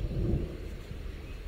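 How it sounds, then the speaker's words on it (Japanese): Thunder rumbles low and steadily in the distance over a golf course, a dull, continuous roll mixed with faint wind noise. "雷鳴ってる。"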